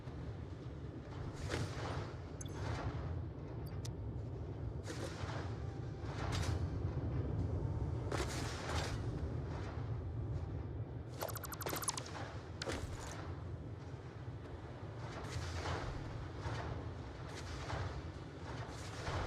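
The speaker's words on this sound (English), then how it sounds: "Started to try out their fireworks." Fireworks in the video game Satisfactory pop and burst in repeated sharp bangs at irregular intervals over a constant low mechanical factory rumble.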